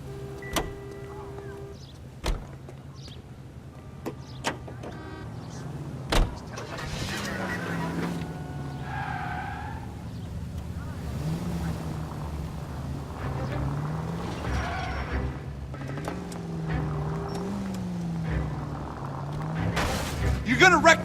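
A car engine hums and revs in the L.A. Noire remaster on PS4 during a chase, with low motor drone rising and falling over a stretch of tense driving while voices talk over it.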